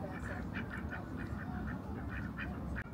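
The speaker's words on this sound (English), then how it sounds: "we've even got some ducks." Ducks on a lake in a city botanical garden give a string of short quacks at a moderate distance, repeating in a quick rhythm over a steady outdoor rumble.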